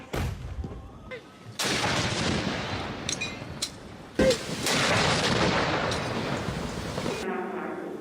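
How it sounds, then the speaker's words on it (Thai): Heavy booming cannon blasts from a 21-gun royal artillery salute by Thai army, navy and air force roll out in a dense, echoing barrage, with two sharper reports standing out above the sustained rumble. "ยิงปืนใหญ่เฉลิมพระเกียรติฝ่ายละ 21 นัด"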